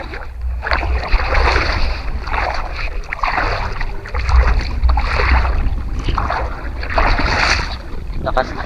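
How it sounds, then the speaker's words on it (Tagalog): Strong wind blows at a coastal fishing spot near high tide, a steady loud rush with gusty surges rumbling low throughout, while someone talks over it. "Lumalakas na yung hangin"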